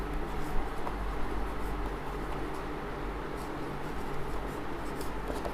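A pen scratches faintly and steadily while writing by hand during a Class 10 geometry lesson, barely rising above a loud, even background hiss.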